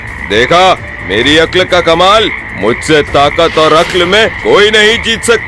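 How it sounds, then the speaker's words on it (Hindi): Cartoon frogs croaking beside a marshy pond, pitched as a loud rhythmic chorus of bubbly calls that runs continuously beneath a lively animated voice speaking over it. "मेंढक टर्रा रहे हैं"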